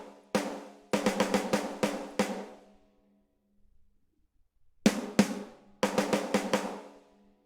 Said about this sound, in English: Well, that's a rim shot, and it sounds like this